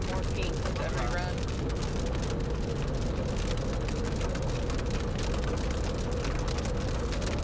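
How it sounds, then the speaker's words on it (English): Rain falling steadily during a severe-weather storm chase on a Texas Panhandle highway, a dense continuous patter of bigger raindrops mixed with road and vehicle noise, loud and unbroken throughout. "we're starting to see some bigger raindrops here"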